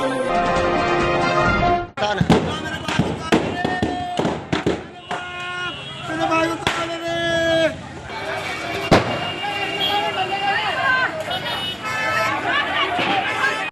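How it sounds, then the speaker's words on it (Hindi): Firecrackers going off inside a burning firecracker shop near a street crossing in Bhagalpur: loud, sharp bangs and crackling bursts at irregular intervals, some overlapping, over crowd noise and voices talking. "भागलपुर शहर के भीकनपुर मोहल्ले स्थित त्रिमूर्ति चौक के पास एक पटाखे की दुकान में आग लग गई।"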